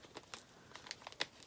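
Plastic bag crinkling as a zipper pull from a monthly craft subscription box is drawn out, a run of short, light crackles and rustles close by, with a sharper crinkle near the end and no talking.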